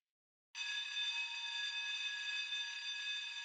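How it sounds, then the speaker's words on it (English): In an episode of the anime A Certain Magical Index, a fire alarm bursts on abruptly after a brief silence and then rings as a loud, continuous, high-pitched electronic tone that holds steady to the end. "Fire alarm?"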